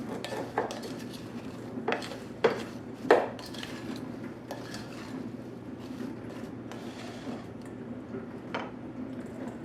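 Chopped rhubarb and sugar stirred in a pot for a sauce, with a utensil clinking and scraping against the pot in a few sharp knocks and soft scrapes over a steady low kitchen hum.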